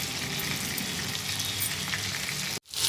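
Small fish frying in hot oil on a high flame, a steady loud close sizzle and crackle that cuts off abruptly near the end, no talking.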